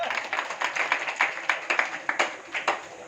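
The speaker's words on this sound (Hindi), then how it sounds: "इनके लिए जोरदार तालियां" Audience applause during a spiritual talk, a moderately quiet group of people clapping, sharp individual claps forming an irregular steady patter that continues throughout.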